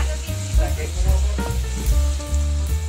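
Nacho ingredients sizzle and fry in a pan with a steady crackle, broken by a few clinks and stirring scrapes, close up, while people speak over it.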